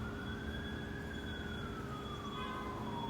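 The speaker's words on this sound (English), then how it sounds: "Another ambulance." An ambulance siren wailing as it passes at a distance. The tone slowly falls in pitch, faint under steady background noise.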